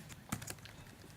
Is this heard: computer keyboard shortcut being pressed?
yes